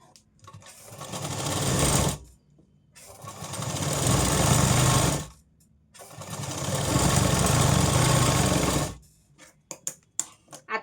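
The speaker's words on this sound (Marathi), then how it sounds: "इथे आपल्याला अगोदर शिलाई घेताना लॉक करायची आहे शिलाई आणि स्टार्ट करायची आहे" Electric sewing machine stitching a hook strip onto a katori blouse runs in three loud bursts of several seconds each, with short pauses between, then a few sharp clicks and taps from handling the fabric.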